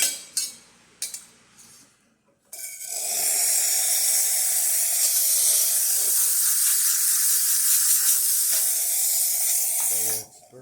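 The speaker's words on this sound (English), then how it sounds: "So let's test the steamer." Steam wand of a serviced La Pavoni Botticelli espresso machine hissing loudly and steadily for about eight seconds after a few clicks and a short pause, then cutting off abruptly.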